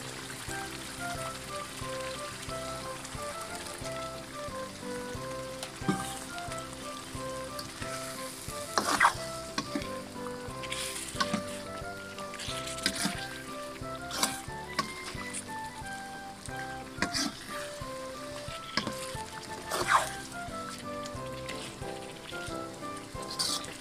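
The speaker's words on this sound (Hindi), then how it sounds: "अब इसमें हम चिकन ऐड करेंगे और फिर उसको फ्राई करना है" Chicken frying in a karahi with masala, a steady loud sizzle with stirring and spoon clinks scraping the wok throughout, no talking.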